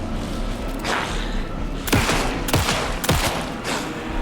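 Heavy gunfire in the video game Alan Wake 2, with several booming shots spaced roughly half a second apart over a dense, noisy game soundscape.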